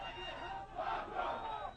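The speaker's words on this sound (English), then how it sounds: "The fans are cheering their warrior on" A crowd of fans cheers and yells at a vale tudo fight between Mark Kerr and Fabio Gurgel, a roaring wash of voices swelling louder midway.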